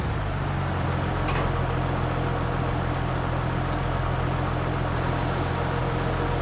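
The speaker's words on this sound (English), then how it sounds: "I think that's just a little too much chisel plow for this tractor." A tractor engine in Farming Simulator 25 labours under the load of a chisel plow, giving a loud, steady, unbroken drone with a low rumble throughout and no talking.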